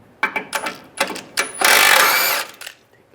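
On a 2007-2013 Chevrolet Silverado, a 15mm socket removes nuts from the transmission cross member. Several sharp ratchet clicks lead into a loud, near, sustained mechanical whir of almost a second, then a few more clicks.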